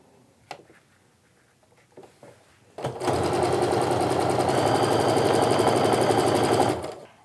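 After a few quiet clicks and pin handling, a sewing machine starts up and runs a steady, loud, continuous stitch along a quilt block seam for about four seconds, then stops.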